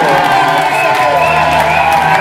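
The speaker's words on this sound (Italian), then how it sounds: "Applausi meritatissimi per entrambi gli atleti." A crowd at a cage fighting event in Bergamo applauds and cheers for both fighters after a majority decision verdict, a dense, steady roar of voices and clapping filling the whole moment at close, loud level.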